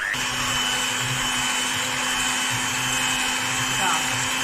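An electric mixer whirs steadily and close by as it mixes Easter cake dough of milk, butter, egg yolks and eggs. A constant motor tone runs under faint background noise.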